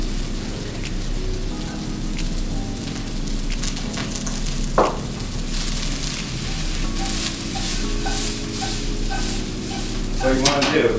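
Scallions are stir-fried in a hot pan during a stir-fry demonstration, a steady crackling sizzle with a sharp scrape near the middle and louder clatter at the end, under a low background hum.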